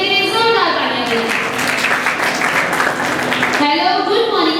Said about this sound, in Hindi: केवल को खुश आमदीद करने के लिए जोरदार तालियां दें